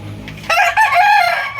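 A backyard rooster of about 2 kg crows once, loud and close, a drawn-out strained call following a brief low sound.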